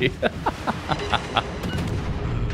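The enemy destroyer Colbert fires its guns in a naval battle video game. A rapid string of evenly spaced heavy shots booms out loud, then trails off into a rumbling, muddy wash.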